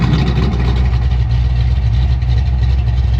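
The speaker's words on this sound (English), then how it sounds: "So I want to show you what the exhaust sounds like here" A Ford Mustang Foxbody engine idles with its active exhaust valve closed, a steady, muffled low rumble, continuous and fairly loud, with no revving.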